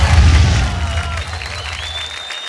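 Studio audience applause on a Bhojpuri singing reality show, a loud burst of clapping and cheering that starts strong and gradually fades over a couple of seconds while music swells underneath.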